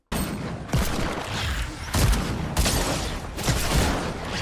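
Deagle pistol fire in Fortnite, loud heavy shots in quick bursts over dense game noise, close and booming with a few strong blasts.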